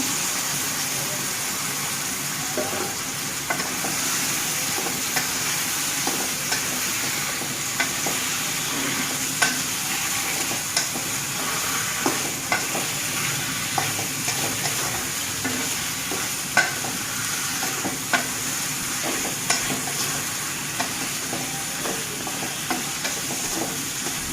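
Papaya fries in a pan for a fish curry, giving a continuous even sizzle with scattered soft scrapes and taps of stirring throughout.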